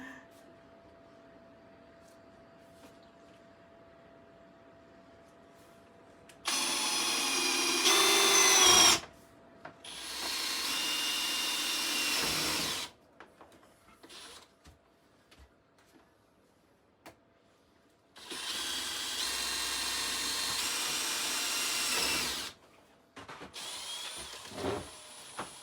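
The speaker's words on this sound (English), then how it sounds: "I'm drilling into this, not the desk, just so you know." Power drill boring holes into a log or block for growing mushrooms, running in three long bursts of several seconds each with quiet gaps between, then a short final whir.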